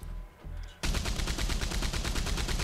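Steady rapid gunfire from a shootout in Red Dead Online, the shots repeating in an even, fast rhythm after a brief quieter lead-in, loud and close with no talk.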